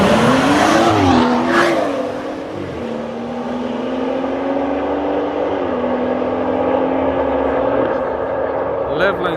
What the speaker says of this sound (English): They're gonna do a road race, man.